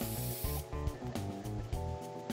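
Short repeated hissing bursts from a spray can in a video game quest, several quick sprays in a loose rhythm, close and fairly loud, with no talk.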